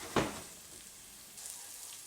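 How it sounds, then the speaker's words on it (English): Thinly sliced onions for venison samosas sizzling in a pan, a brief stirring scrape at the start, then a steady faint frying hiss. "So we just keep those onions moving."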